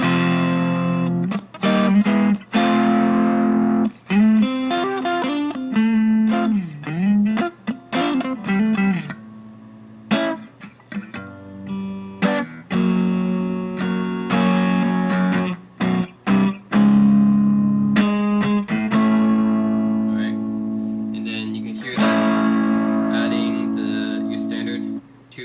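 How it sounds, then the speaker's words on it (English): Electric guitar through a Maxon tube screamer overdrive pedal, giving a mid-heavy driven tone; chords and single notes ring out continuously with short gaps, loud and close with no talking. "The overdrive, this is the typical overdrive sound you hear on countless records."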